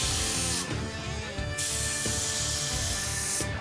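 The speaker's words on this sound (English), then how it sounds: "We're in a spray booth now, and I have a paint gun in my hand" A paint spray gun sprays clear coat onto a car door in a spray booth, giving loud, steady hissing bursts that stop briefly and start again, with a machine hum underneath.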